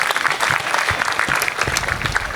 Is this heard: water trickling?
no